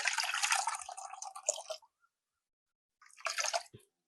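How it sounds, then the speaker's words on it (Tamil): Water is poured into a pot of mudakkathan rasam while cooking in a home kitchen, two bursts of splashing and trickling, the first longer, separated by a silent gap, close and fairly soft. "அளவான தண்ணியை விட்டுட்டு"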